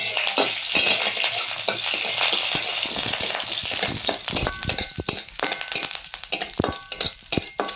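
Mustard seeds, curry leaves and a dried chili frying in hot oil: a loud, dense sizzle with sharp crackling pops and spattering clicks that grow more scattered toward the end, close up with no speech.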